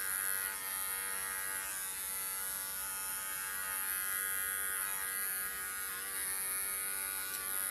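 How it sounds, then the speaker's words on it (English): Steady electric razor buzzing while shaving a standard poodle puppy, a continuous close hum and whine that holds level throughout with no voices. "I shave him quite a bit just to get him used to the razor"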